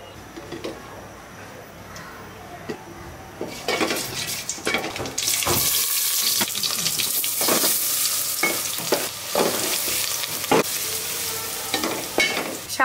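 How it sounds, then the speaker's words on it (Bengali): White oil and ghee frying in a pan for an Eid dish: a quieter sizzle swells after a few seconds into loud, continuous crackling, with stirring scrapes and occasional clinks of utensils on the pot. "সাদা তেল আর ঘি রান্না হবে।"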